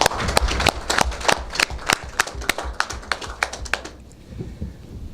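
Audience applause at a sports-themed closing ceremony in Cotonou, a burst of many hands clapping close and loud that thins out and fades toward the end.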